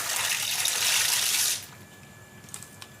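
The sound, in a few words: pasta added to hot water in a pot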